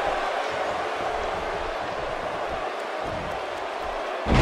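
Arena crowd noise from the WWE 2K18 wrestling video game, a steady broad roar of cheering spectators filling the whole stretch, rising slightly louder at the very end.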